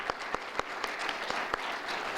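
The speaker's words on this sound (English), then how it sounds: "I want to give them also a round of applause" A brief, dense round of applause from a CodeFest audience in a library hall, steady and fairly close, with a few louder individual claps standing out.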